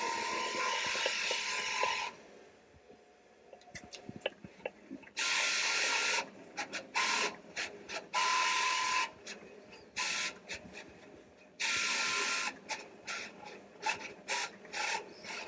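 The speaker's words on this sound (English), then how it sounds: "now that it has fully printed, the machine is now feeding it back" A Roland 300v print-and-cut machine feeds printed vinyl back through its rollers, with repeated loud whirring and rasping motor passes of about two seconds each, separated by clicks and short mechanical ticks, close up with no talk.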